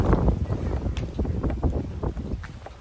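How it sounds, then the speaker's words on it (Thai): Strong wind buffets the microphone outdoors in Laos, gusting in uneven rumbling bursts that stay loud throughout with no clear talk. "ลมเด้อมื้อนี้เด้อ"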